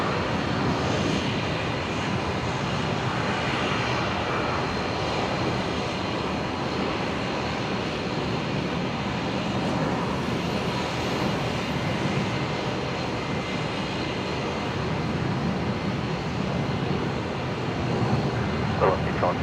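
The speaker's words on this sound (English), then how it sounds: "Alliance Fokker 70 just about to rotate here, operating at velocity 1275 up to Mount Isa." Alliance Fokker 70 jet rotating on its takeoff roll at Brisbane Airport, a loud sustained engine roar filling the scene while a voice talks over it.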